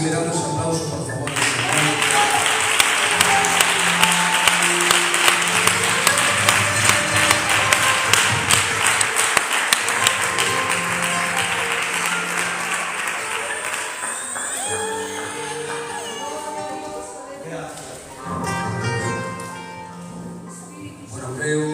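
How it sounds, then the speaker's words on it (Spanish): Applause from a church congregation at the Iglesia Madre de Lugo, dense clapping that swells loudly and then thins out with scattered claps and voices mixed in near the end. "Si le damos aplauso, por favor"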